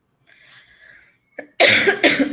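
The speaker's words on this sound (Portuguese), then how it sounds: "Eu peço só perdão pela tosse." A short throat sound is followed by a loud, harsh cough with a second burst right after, close to the mic.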